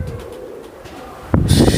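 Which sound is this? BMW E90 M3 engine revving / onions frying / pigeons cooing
pigeons cooing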